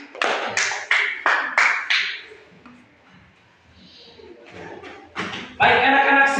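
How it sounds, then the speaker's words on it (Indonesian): Children clapping for a classroom group, a handful of separate sharp claps in a loose rhythm, a quiet pause, then a few more claps building into a louder burst at the end. "Tepuk tangan sekali lagi."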